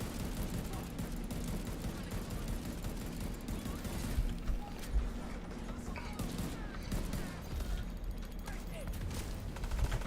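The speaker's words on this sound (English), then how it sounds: "Because this gun does not fire that fast." Gunfire in the video game The Division 2, dense continuous shooting with rumbling impacts, loud and busy throughout the clip.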